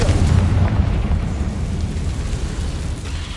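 A Confringo fire spell blast in the Hogwarts Legacy video game, a loud rumbling boom that decays slowly across the clip, heavy low-end explosion alone without voices.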